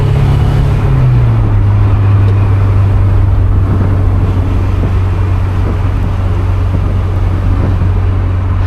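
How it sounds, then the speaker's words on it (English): A low-torque vehicle engine downshifting on an incline drones loudly and steadily up close, its pitch dropping early on, then holding an even low hum. "this thing has no torque, so we got to downshift for any sort of incline"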